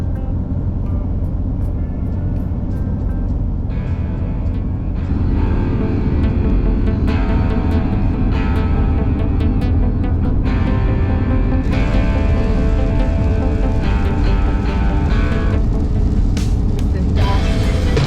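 A vehicle drives along a road toward Smoky Bay in stormy weather, a loud continuous rumble of engine and road noise inside the cab, with a voice talking over it.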